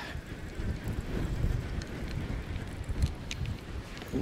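Strong wind blows on the South Wales coast, buffeting the microphone. It roars low and constant for the whole stretch, with gusty surges and no clear talk.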